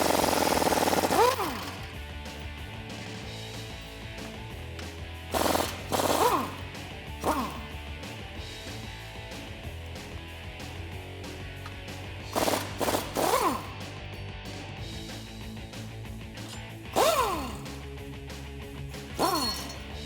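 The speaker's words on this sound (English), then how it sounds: "Now we're gonna go ahead and take out the nuts that are holding on our U-bolts" A socket wrench with a 19mm socket loosens the U-bolt nuts holding the axle to the leaf springs on a Toyota Tundra, with several bursts of ratcheting and metallic clanks over a steady workshop hum.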